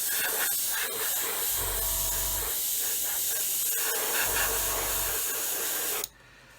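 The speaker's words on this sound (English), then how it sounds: "so we just spray some primer on there" Long continuous hiss of an aerosol can spraying primer onto a plastic scale model aircraft, held for several seconds, then cut off abruptly near the end, leaving quiet room tone.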